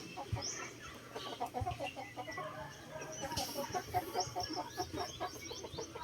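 Hens clucking inside a backyard chicken coop where some birds are sick, a steady, busy chorus of overlapping clucks and short calls, close by and continuous, with no talking.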